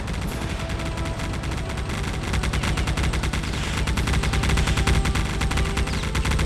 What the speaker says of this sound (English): when you start attacking Cord, the mounted guns also start attacking you